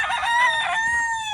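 A Boston Roundhead rooster crows one short, loud, close call with a strained, harmonic tone, alone and without talk.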